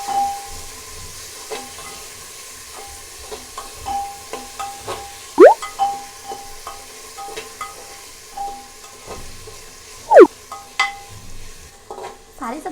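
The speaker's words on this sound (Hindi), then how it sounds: "सारी सब्जियों को अच्छे से मिक्स करने के बाद हम इन्हें मीडियम फ्लेम पर 2 मिनट के लिए भून लेंगे।" Potatoes, fresh peas and chopped tomato are stirred and fried in a pressure cooker over medium flame, giving repeated scraping strokes and clanks over a soft steady sizzle, with two sharper scrapes standing out.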